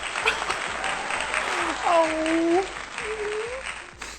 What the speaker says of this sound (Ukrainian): Мені потрібні оплески.